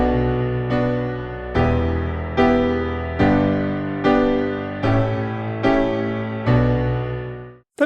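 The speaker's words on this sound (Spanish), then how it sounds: "por defecto viene con el de Keysound Piano que suena así" The Keysound Piano preset of the free Keysound Classic VST piano plugin plays a slow run of eight separate notes and chords. Each one is struck cleanly and left to ring before the next, and the last decays to silence.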